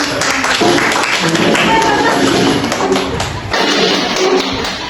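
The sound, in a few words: classroom applause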